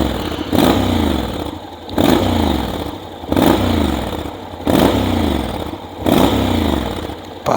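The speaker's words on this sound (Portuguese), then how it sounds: "Vamos só ouvir aqui o roncar da bicha" A 2023 Honda X-ADV 750 with the NC twin engine is revved close up in five repeated blips, each a loud, rasping surge that rises and falls back, with no talking.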